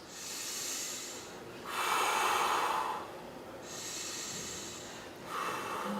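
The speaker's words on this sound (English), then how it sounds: "Take 3 slow, deep breaths." Slow, deep breaths taken during a seated chair exercise session, two long cycles of airy inhales and exhales heard up close, each breath drawn out over a couple of seconds with no talking.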